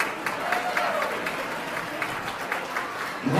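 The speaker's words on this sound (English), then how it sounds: "Let's have a big round of applause to Kathy and Gary Vollmer for donating this package." Audience applause for donors Kathy and Gary Vollmer during a charity auction, a steady wash of clapping from a crowd at moderate distance, continuous and fairly even throughout.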